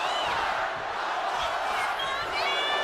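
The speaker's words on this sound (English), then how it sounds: "The crowd are chanting one more time." A virtual arena crowd in the WWE 2K25 wrestling game chants and cheers in a sustained loud roar, with whistling tones rising over the din.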